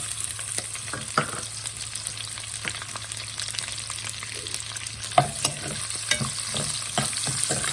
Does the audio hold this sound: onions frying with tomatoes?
yes